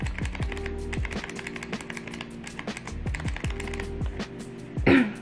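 Cherry MX Blue clicky switches clack in quick, uneven runs of crisp keystrokes with a metallic ring, close and fairly clear, ending in a slightly louder burst of clicks.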